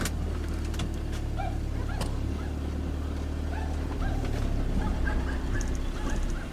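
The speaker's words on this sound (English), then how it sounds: "I'm just going to drive on." A camper van drives slowly onto a weighbridge, its steady low engine rumble running throughout with small clunks and faint background noise.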